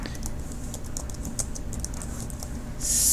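Rapid, light clicking of keys on a computer keyboard, typed in quick irregular bursts at close range with no voices.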